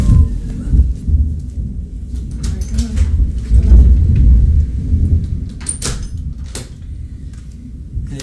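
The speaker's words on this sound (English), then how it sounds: "Wow, that was a really close lightning strike." Thunder from a very close lightning strike during a storm, a loud low rumbling crash that swells and rolls for several seconds before fading, with sharp cracks near the end.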